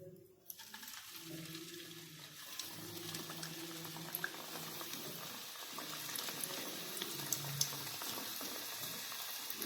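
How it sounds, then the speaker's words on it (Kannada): Methi pakoda batter sizzles and bubbles in hot oil in a kadai, a steady close frying hiss that goes on throughout. "ಕಡಾಯಿ ಎಣ್ಣೆ ಇಟ್ಟಿದ್ದೆ ರೀ ಕರ್ಯಾಕ, ಅದ್ರೊಳಗ ಈಗ ಇದನ್ನ ಹಾಕ್ತೀನಿ"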